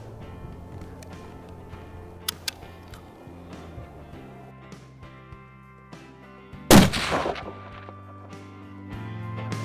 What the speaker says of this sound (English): I took a shot at a bull tar here, kind of last couple hours of light